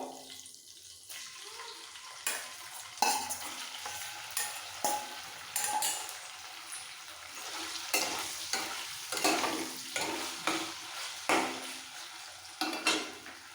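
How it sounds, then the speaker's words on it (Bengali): Marinated chicken fries in a pan with a steady sizzle, broken by repeated scraping stirs of a spatula every second or so. Up close, with no voices. "চিকেনও ভাজা হয়ে গেছে একটু উল্টে পাল্টে ভেজে নিলেই হবে"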